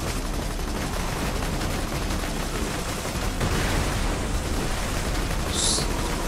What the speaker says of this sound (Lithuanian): Smarkiai čia šaudo?